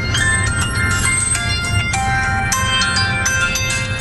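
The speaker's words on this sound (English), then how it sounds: "Hold on, let me take this phone call." A phone ringtone plays loud and close as a bright, repeating electronic melody of chiming tones over a constant background hiss.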